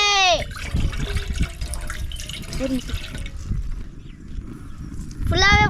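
Water is poured into gulab jamun dough mix in a home kitchen, making a steady trickling splash, with voices talking at the start and end.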